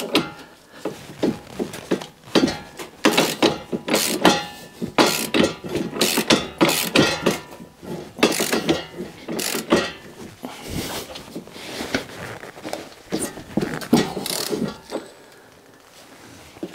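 A wrench works loose a very tight nut, its ratchet clicking in rapid, loud bursts of strokes throughout, pausing briefly between pulls and fading near the end.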